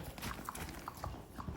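A horse's hooves beat out a soft, rhythmic canter on the ground, faint and somewhat distant, with regular paired thuds and no voices.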